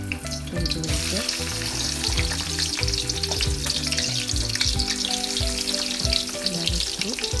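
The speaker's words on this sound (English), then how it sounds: "First, we're going to fry the potato wedges." Potato wedges frying in hot oil give a dense, steady sizzle with bubbling crackle and occasional stirring clatter, close and continuous without speech.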